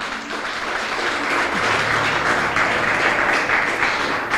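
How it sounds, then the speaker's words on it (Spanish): A church congregation applauds loudly, with continuous, dense clapping from a large crowd that holds steady throughout. "Denle fuerte el aplauso al Señor."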